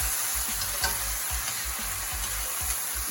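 A mango ginger glaze sauce stirred in a hot pan, a continuous close sizzle with rhythmic low scraping strokes of the utensil repeating roughly twice a second, no voices.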